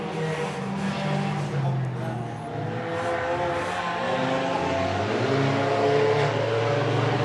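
Race cars circling a short track during a heat, engines droning steadily loud and close throughout, with a commentator talking over the roar.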